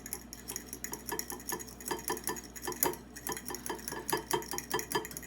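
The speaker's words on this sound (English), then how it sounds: "we're going to go ahead and whisk up the eggs" A whisk beats egg yolks in a bowl for an omelette, making quick, steady clicking taps against the side. The rhythmic strokes are close but fairly quiet, with no talking.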